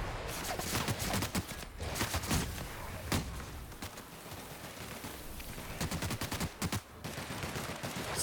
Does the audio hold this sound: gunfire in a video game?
yes